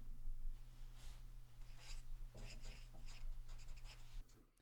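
A name is written on a child's crab drawing in a series of quick, soft scratchy strokes coming in short bursts over a steady low hum.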